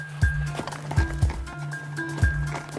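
A horse plodding up a steep, rough mountain trail, its heavy hoof falls landing in an uneven rhythm close by, with a steady low rumble and some faint background sounds.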